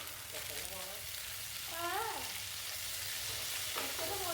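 Washed long beans for Kerala-style payar thoran stirred in a hot pan, a soft continuous sizzle with light scraping under faint background whistling tones.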